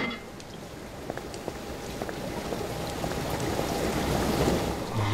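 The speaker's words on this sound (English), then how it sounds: "And we can hear water going in, I think." Water rushes and gurgles into sewer pipes in the Call of Cthulhu video game, a steady flowing wash that swells slightly louder toward the end, with a few faint clicks.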